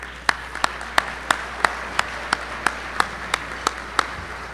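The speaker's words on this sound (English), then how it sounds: "So please, a round of applause." An audience at a dinner event applauds, heard here as a run of about a dozen distinct, evenly spaced claps, close and fairly loud, with no talk over them.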